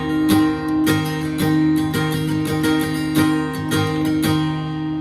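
A guitar chord from a song, fingered X-6-muted D-5-4-6, strummed repeatedly in a steady rhythm, ringing close and clear with no talking.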